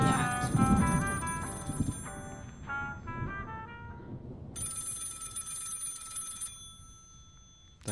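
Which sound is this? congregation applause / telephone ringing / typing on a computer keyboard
telephone ringing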